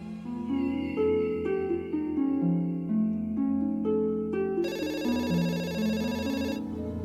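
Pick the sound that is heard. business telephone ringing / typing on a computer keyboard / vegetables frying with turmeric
business telephone ringing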